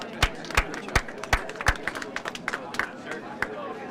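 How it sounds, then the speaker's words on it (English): A crowd gives a round of applause for a retiring employee of 37 years, scattered claps and footfall-like knocks sounding close in a busy room with chatter underneath. "You could give that a round of applause."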